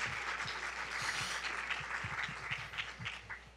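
Audience applause after a keynote at Shaping Colombia 2019, a steady wash of many hands clapping at moderate level, alone without speech.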